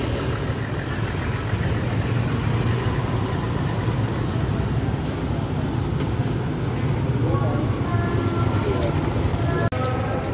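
Bus engines roaring and idling at Bungurasih bus terminal, a loud steady rumble of heavy exhaust mixed with traffic and crowd noise, continuing throughout.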